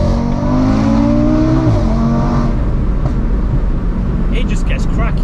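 Stage 3 hybrid-turbo Audi RS3 engine revving hard, a rising throaty note that climbs then drops sharply as it shifts, followed by rough rumbling and faint crackles, loud and close.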